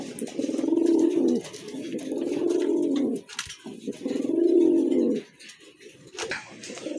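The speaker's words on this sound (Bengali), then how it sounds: "মাশাআল্লাহ আরেক জোড়া কবুতর দেখতে পাচ্ছেন, খুবই সুন্দর, অনেক বড় সাইজের কবুতর" A pair of large pigeons coo in long, throaty bouts, two extended rolling coos separated by a brief pause, close and fairly clear with no speech.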